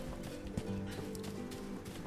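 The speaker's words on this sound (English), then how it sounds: "There's my little horsey." A horse in the video game Rustler trotting along, steady clip-clop hoofbeats under a continuous game soundscape with a faint snort or whinny.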